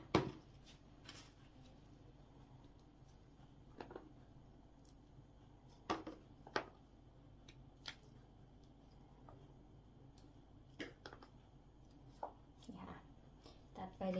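Knife cutting through mushroom stems, sharp isolated taps and snips spaced irregularly over a quiet background, faint and close, with soft handling noises between cuts.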